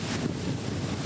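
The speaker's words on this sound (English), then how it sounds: "A bit windy" Gusty wind buffets the microphone at an outdoor firefighters' memorial service, a steady loud rushing roar with no speech.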